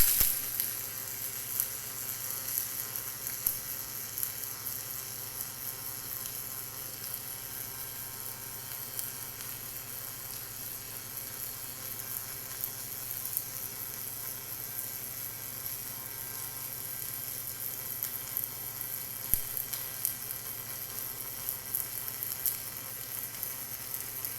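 Robotic Lincoln Electric HyperFill welding lays a 3/8-inch fillet in the 1F position with fast wire feed, giving a steady, continuous sizzling buzz that holds at an even level throughout, with no talking.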